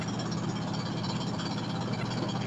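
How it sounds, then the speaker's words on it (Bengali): A trawler boat engine running on a river makes a steady, droning low hum at moderate distance, unbroken for the whole short stretch. "তো ট্রলার আগায় যাচ্ছে, খুব দৌড়াইতেছে"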